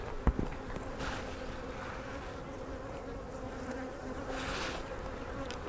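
Honeybees buzzing around an opened beehive while a queenless colony is being corrected with a brood frame, a steady close-up hum with swells of louder buzzing and a brief knock near the start.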